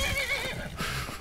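A horse whinnies in Skyrim, a short rising neigh with snorting breath, close and loud, lasting about a second with no talk over it.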